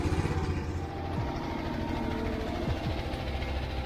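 An excavator's diesel engine runs at a steady, fairly loud drone as the machine pushes earth with its bucket while building an enduro cross track, with a low, even rumble and slight pitch shifts under load.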